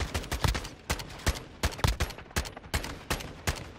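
Rapid, dense gunfire bursts in the shooter game Modern Warfare 2, loud overlapping shots in quick irregular succession with no talking.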